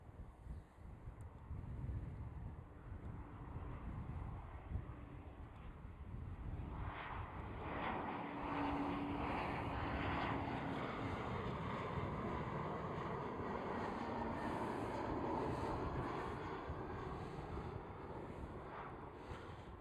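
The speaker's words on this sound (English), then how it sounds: "That's another Embraer, and it looks like it" An Embraer jet of German Airways, flying for KLM Cityhopper at Schiphol airport, makes a steady distant roar that swells slightly midway, with wind buffeting the microphone throughout.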